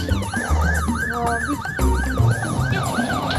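Police siren from the Roblox game Brookhaven wails in a steady repeating rise and fall, loud and up close over a dense bed of game sounds and music, with no talk.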